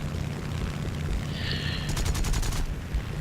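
In War Thunder Realistic Battles over Peleliu, an aircraft's machine guns fire a short rapid burst at an F6F Hellcat, rattling over a constant engine drone.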